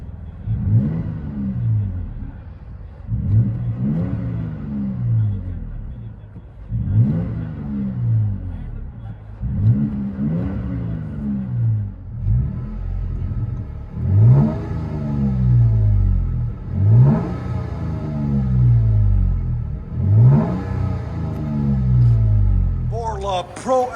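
A Toyota Tacoma's 3.5L V6 revs repeatedly through a Black Widow exhaust, with about eight throttle blips that rise and fall, each swelling louder and deeper, close and alone.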